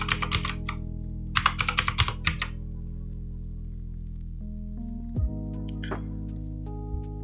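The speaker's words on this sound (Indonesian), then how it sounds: "Di sini saya ketik namanya." Fingers type a name on a computer keyboard in two quick runs of close, crisp keystrokes. Near-silence follows, broken only by a few faint scattered noises over a steady low hum.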